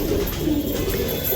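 A pigeon coos in soft, low repeated warbling notes, close and steady over a light background hum, with no one speaking.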